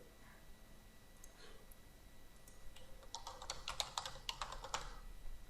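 Someone types a campaign title on a computer keyboard, a short burst of quick, light key clicks building after a quiet pause, close by against a low background hiss.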